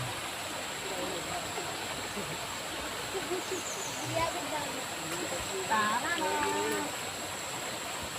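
Steady broadband rush of the Naic river flowing, an even watery hiss heard outdoors with faint voices drifting in the background.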